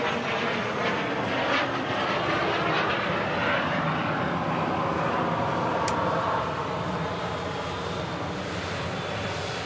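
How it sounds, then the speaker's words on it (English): A Ryanair airliner inbound from Dublin approaches Manchester Airport. Its engines give a strong continuous roar that holds steady throughout, with a sweeping drone shifting in pitch as it passes. "This Ryanair from Dublin is on their way in"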